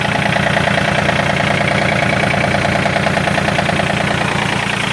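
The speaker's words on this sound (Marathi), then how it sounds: "ट्रॅक्टर चालू आहे" A tractor engine idles steadily nearby at 1200 RPM, a loud, even, throbbing chug that holds constant throughout.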